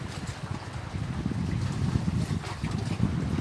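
A fishing boat works the sea off Gökçeada, its engine a low, steady rumble mixed with gusting wind noise buffeting the microphone, continuous and fairly loud with no voices.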